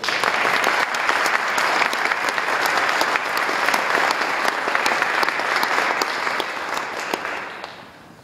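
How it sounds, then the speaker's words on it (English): An audience gives sustained, dense applause for eighteen children at a book presentation, holding steady for several seconds before fading out. "I would like to ask you to give a round of applause to these 18 children"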